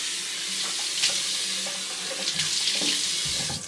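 Tap water runs steadily into a sink for wetting the face before a shave, a continuous close splashing hiss with small gurgles and no talking.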